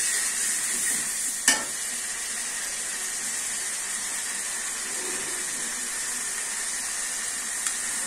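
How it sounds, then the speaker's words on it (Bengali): Food frying in pure mustard oil: a steady, close, hissing sizzle throughout with a single sharp clack early on, no voices. "খাঁটি সরিষার তেল দিয়ে রান্না করা হচ্ছে।"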